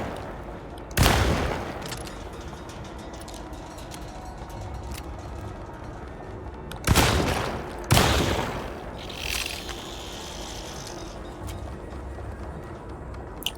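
Tommy gun firing in the Alone in the Dark game, three short loud bursts of rapid gunfire separated by seconds of low background ambience.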